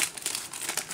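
Crinkly tearing of a Panini NBA Hoops 2014-15 basketball card pack wrapper, a close, quiet run of plastic crackles and rustles over about a second.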